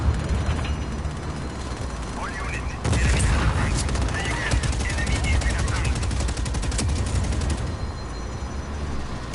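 Rapid automatic gunfire bursts in the game Just Cause, loud and near, rattling in fast strings over a busy game background, with a person talking at times.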